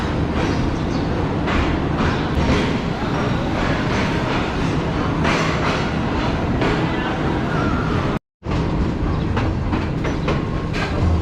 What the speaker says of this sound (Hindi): तो बिल्कुल मेरे सामने से इस वक्त आ रही है ZC-30 के साथ एक ट्रेन